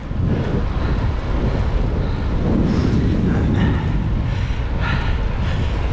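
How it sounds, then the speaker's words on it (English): A cold east wind buffets the microphone during a countryside bike ride in the Vale of Belvoir, a loud, constant low roar with gusty rumbling and no pauses. "The wind is coming from the east today, which is quite unusual, and it's a very cold wind."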